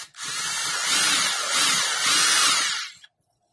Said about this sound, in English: I'm going to drill a hole, just some shallow holes